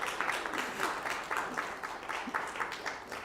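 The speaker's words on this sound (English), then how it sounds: "I invite us all to applaud and thank them for their wisdom and insight and beauty" Church congregation at a Sunday service applauding together, a steady wash of many hands clapping with a faint voice underneath, moderately quiet and continuous throughout.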